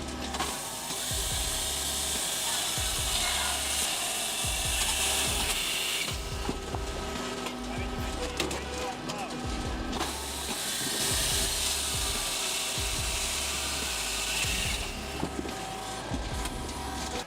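Pilka Master Super firewood processor running steadily, a continuous mechanical hiss and hum with broadband rushes rising and falling in long cycles, plus scattered low knocks and thumps from the splitting and cutting work, loud and close throughout.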